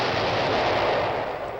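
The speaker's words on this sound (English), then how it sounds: "The tanks shell the barracks." Tank guns shelling Greek barracks in Cyprus in 1974, a dense, loud roar of gunfire and blasts merging into one continuous rumble over a short burst, heard without speech.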